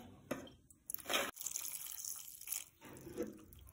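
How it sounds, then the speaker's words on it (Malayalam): Half a kilo of beans is rinsed in water for a Kerala pumpkin erissery, giving soft, quiet splashing and trickling with a few sharper sloshes. "നന്നായിട്ട് കഴുകി വാരി കുക്കറിലേക്ക് ഇടുന്നത് 1/2 കിലോ പയറുണ്ടാട്ടോ."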